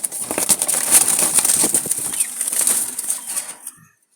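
Wild Jalali pigeons in Dhaka flutter and flap their wings restlessly, making a close, busy burst of rapid wingbeats that fades out after a few seconds.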